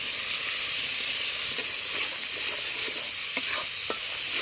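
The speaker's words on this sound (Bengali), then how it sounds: "এখন একটু নেড়ে নিব, একটু কষিয়ে নিচ্ছি" Home-raised chicken pieces fry in a pan with turmeric, chili and salt, sending up a constant close sizzle broken by scraping stirs and small pops.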